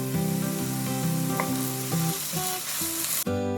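Onions sautéing in a partly covered pan for chicken biryani, a constant crackling sizzle running beneath loud melodic background music, with no speech.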